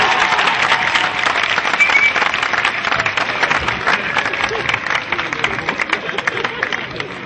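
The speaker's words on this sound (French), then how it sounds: "Applaudissements pour son excellent jeu à l'amour." Audience applause after a Burkinabé comedy sketch, a dense steady wash of clapping that fills the whole stretch at an even, fairly loud level without letting up.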